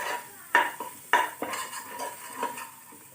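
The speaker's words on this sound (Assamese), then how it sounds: "ভালদৰে লৰাই দিম।" Spices for a fish curry stirred in a pan: a few distinct metallic scrapes and knocks of a utensil against the pan over a soft sizzle, close and alone without talk.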